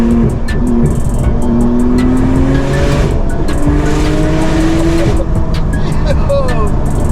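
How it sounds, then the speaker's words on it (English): Porsche 911 Turbo S engine pulling hard from inside the cabin, a steady loud drone with rising harmonic sweeps as it accelerates through gears, with people talking over it. "we're just in the Porsche 911 Turbo S now"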